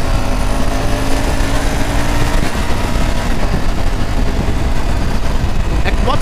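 A Honda Hornet motorcycle being ridden, its engine giving a loud, close, continuous drone mixed with wind noise that holds steady throughout.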